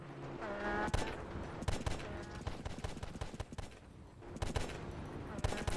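Gunfire in GTA San Andreas: bursts of sharp shots crack in quick succession, some in rapid runs, loud against a busy game background with scattered clatter and no clear talk.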